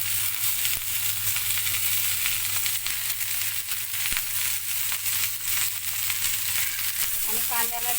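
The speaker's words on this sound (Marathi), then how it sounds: "आता मी कांदे भाजून घेणार आहे कांदे भाजताना आपण दोन टेबल स्पून तेल टाकून घेणार आहोत" Onions sizzle steadily in two tablespoons of hot oil in a pan, a continuous loud crackling hiss with occasional stirring knocks, and a short scrape near the end.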